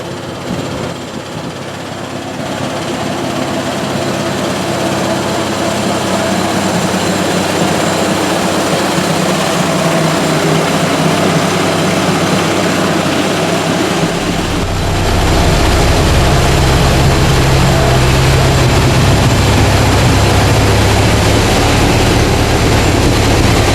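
An Allis Chalmers WD-45 tractor drives in with a loud, steady engine drone that grows heavier and deeper about two thirds of the way through, close and continuous with no talking.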